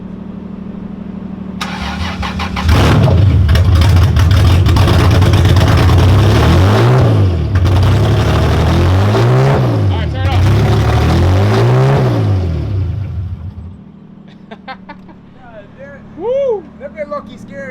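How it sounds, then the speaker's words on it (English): A Lexus IS300 with a swapped engine and a vacuum leak cranks and fires up loudly, then revs hard several times in rising and falling surges before cutting off, leaving quieter background sounds. "this car is pretty loud, so I'm gonna have Jerry start it up for 2 seconds"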